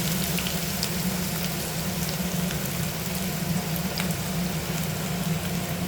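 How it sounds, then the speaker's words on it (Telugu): Onions and green chillies fry in hot oil in a pan, a steady dense sizzle with faint crackles, close and constant throughout, with no voices. "నూనె కాగింది ఫ్రెండ్స్. దీంట్లో నేను ఉల్లిపాయలు, ఈ మిర్చి వేసేసుకుంటున్నాను."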